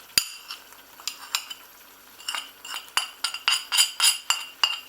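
A spoon stirs tomato puree, paprika, vegetable bouillon powder and black pepper in a pan for a vegan lasagne, making irregular close clinks and scrapes that grow busier toward the end.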